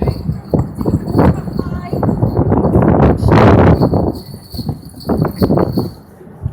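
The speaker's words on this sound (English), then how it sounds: "We can hear the bells. We can hear the hooves." Horse hooves clip-clop with jingling bells as a horse passes at Windsor Castle during a Christmas advent event, rising to a loud close pass mid-clip, with people talking over it.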